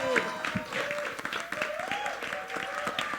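A crowd at a trailer launch event applauds and cheers for the film's director of photography, steady clapping running throughout with voices mixed in.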